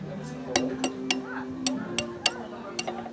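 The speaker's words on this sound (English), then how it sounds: "we must complete the creme brulee crack test" A spoon cracking the caramelized sugar top of a vanilla creme brulee in a shallow dish at a resort restaurant, making a series of sharp, crisp taps and cracks, about seven distinct hits over a low room hum.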